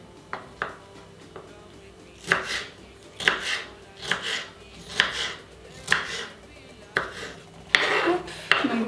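Peppers being chopped with a knife on a board, a series of about ten sharp, close knocks at an uneven pace, with a few quiet words spoken between cuts.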